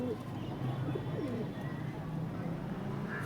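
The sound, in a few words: pigeons cooing, pigeons for sale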